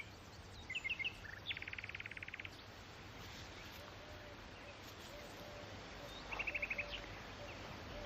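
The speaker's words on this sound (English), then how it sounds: "The one with the long notes and the long pauses." A nightingale sings in a tree in a quiet countryside setting, giving faint repeated bursts of rapid notes with long pauses between them over soft ambient hiss.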